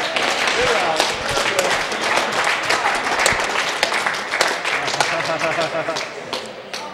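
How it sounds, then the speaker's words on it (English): A crowd applauds and cheers in a four-wall handball court after a rally during a semifinal match, with steady, dense clapping lasting throughout and a commentator's voice running over it. "The crowd here putting their applause on for these guys."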